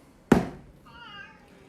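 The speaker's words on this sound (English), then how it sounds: "enjoy the cat having a yell" A sharp thump, then a cat lets out a short, drawn-out meow nearby, clear against a quiet room.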